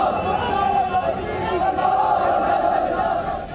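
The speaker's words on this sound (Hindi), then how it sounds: "उदयपुर में सैकड़ों प्रदर्शनकारियों की भीड़ है, सिर कलम के नारे लगाए जा रहे हैं" Hundreds of protesters in Udaipur chanting slogans together, a loud, sustained roar of many voices that stays dense and steady throughout.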